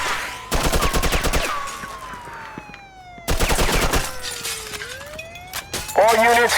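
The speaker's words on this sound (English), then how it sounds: "you really blow through machine gun ammo for these" Machine gun fire from the video game Mafia 2, two loud rapid bursts separated by a pause, with a police siren wailing underneath and a voice speaking near the end.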